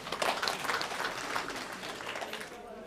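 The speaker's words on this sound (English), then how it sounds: "Can you clap for that?" Audience at a Gambia diaspora engagement event clapping in a hall, a short burst of moderately loud, dense applause that starts to thin toward the end.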